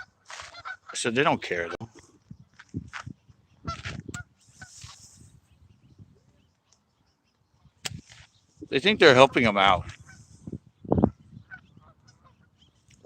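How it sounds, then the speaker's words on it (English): Geese honk loudly in repeated bursts, close by during a hot, dry day, with people talking between and over the calls. "Oh, those poor geese."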